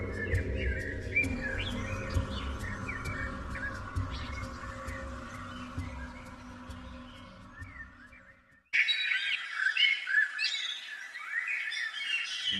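Birds chirping in a dark forest, quick repeated tweets over a low rumbling backdrop that cuts to a brighter, busier stretch of overlapping calls near the end, with no speech.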